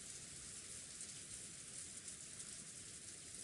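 Steady soft rain falls on a rose garden in the visual novel Umineko, a faint continuous hiss with no distinct drops or voices throughout.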